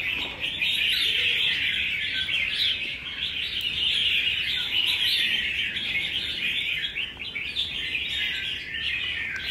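Songbird, a prized fighting bird offered for sale, chirps and calls in a dense, continuous run of bright, shrill notes, loud and close throughout with no talking.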